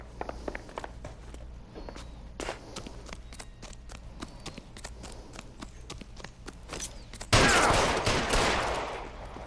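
Gunshots in the L.A. Noire video game, a few sharp scattered cracks among footsteps and shuffling, ending in a louder burst of noise, with no talk.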